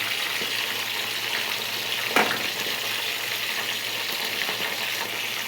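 Curry leaves and hibiscus flowers fry in hair oil with a steady, hissing sizzle, close and even, with one brief louder burst midway.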